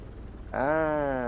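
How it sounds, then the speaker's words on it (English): An Aerobask DA42 twin-engine aircraft engine starts up in a flight simulator: after a quiet stretch, a steady droning tone kicks in abruptly and settles into an even, sustained run. "And start the engine."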